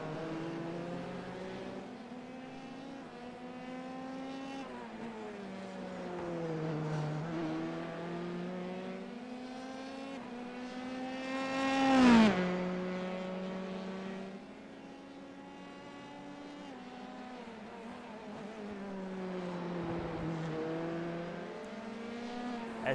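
Formula 3 race cars at Long Beach in a racing video game scream through gear changes, engine notes rising and dropping repeatedly, with one sharp loud pass or tire squeal near the middle, no talking.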